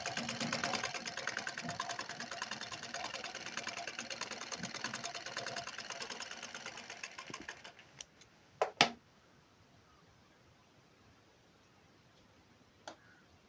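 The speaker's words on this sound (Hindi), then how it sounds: "इसी पर हम 2 सूत की सिलाई लगाते चले जाएंगे" Sewing machine running steadily as it stitches a seam on a plain blouse, a continuous close whir for about seven seconds, then stopping, followed by a few sharp clicks and near silence.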